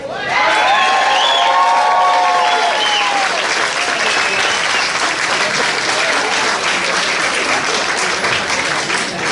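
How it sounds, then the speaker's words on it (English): A loud, massive round of applause with cheering rises from the audience for the sheriff at a candidates' meet-and-greet in Key West, sustained and dense for the full stretch, with a voice briefly heard at the start. "That was an appropriate amount of massive applause"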